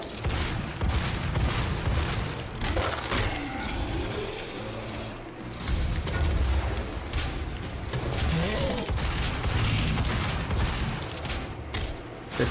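Weapon fire fills a fight in the game DOOM, repeated gun blasts and heavy booms rolling continuously and loud, mixed with mechanical clanks and a player's voice talking over it.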